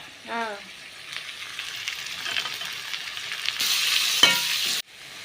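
Carrots and vegetables for momo filling hiss and sizzle in a hot pan, a brief voice at the start, then stirring scrapes and a louder burst of frying before it stops.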